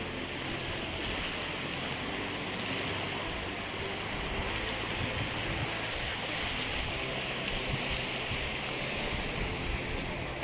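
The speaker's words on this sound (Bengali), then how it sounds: "তো দেখো জলের স্রোতটা দেখো।" A mountain stream on Mount Titlis, Switzerland, rushes continuously nearby as a steady, broad, even roar of flowing water with no voices.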